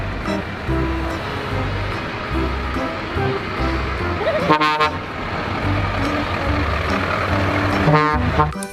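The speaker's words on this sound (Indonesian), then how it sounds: "Di sini ada truk tangki." A tank truck's horn toots in short repeated bursts over a low, steady engine drone, close and fairly loud, with two sharper honks standing out midway and near the end.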